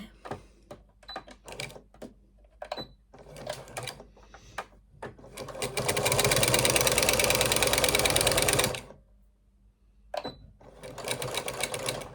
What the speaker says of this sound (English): And then we're just going to sew all the way across there.